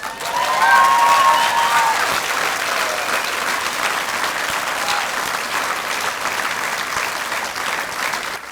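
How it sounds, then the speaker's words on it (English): A crowd at an outdoor Stand with Israel rally in Brisbane applauds steadily, dense clapping that swells at the start then holds at a strong, even level, with faint cheers early on. "Please welcome, while you're continuing your clapping, to Brisbane Lord Mayor Adrian Schrinner."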